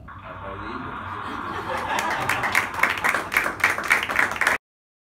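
An audience at an academy meeting breaks into applause, the clapping building from scattered hand claps into a dense, steady burst with some laughter mixed in, fairly close and loud before cutting off abruptly.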